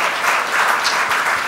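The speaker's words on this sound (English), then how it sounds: "Big round of applause for the very beautiful" Steady, dense applause from an audience at a women's business awards ceremony, loud and even throughout with no voices standing out.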